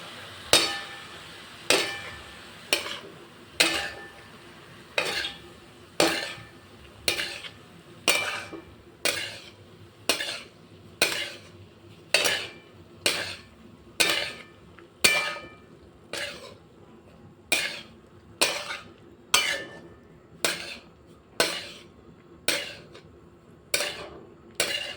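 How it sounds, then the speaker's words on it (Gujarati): A metal spoon scrapes and knocks against a pot while moong pulao rice is stirred and mixed, giving sharp, evenly spaced clinks about once a second, close and steady throughout with no talking. "હવે આપણે બધું જ મિક્સ કરી દઈશું।"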